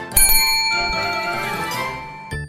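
A bright, ringing bell chime for a subscribe prompt sounds alone: a couple of quick dings that decay into a sustained metallic ring, then a short final strike at the end.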